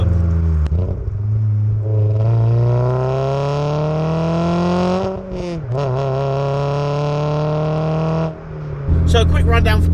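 A Renault Clio RS200 hatchback engine revs hard, its pitch climbing through a long pull with a couple of brief dips between gears, loud and close throughout.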